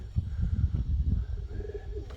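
A pigeon coos in a pigeon loft, giving a few soft, low, throaty bursts close by, followed by quieter murmuring.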